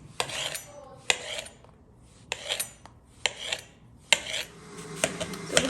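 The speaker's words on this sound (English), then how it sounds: "Okay guys, so now we're going to cut our mushrooms" Several sharp knife chops on a cutting board slicing mushrooms, in short separated bursts of scraping cuts with brief pauses between them, close and fairly quiet with no talking.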